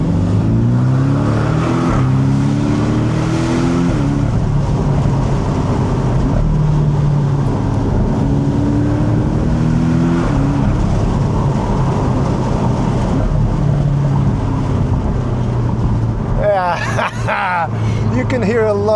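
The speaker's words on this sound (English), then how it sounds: "You can hear a lot of the exhaust now, whereas before it was very muted with the top up." A Porsche 718 Boxster GTS driven with the top down on a test track lets its exhaust note come through clearly, a close, steady engine drone with rising and falling pitch under ongoing talk.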